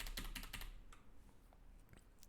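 Quiet rapid keystrokes on a computer keyboard, a burst of close clicks at first and then sparser taps, faint and alone.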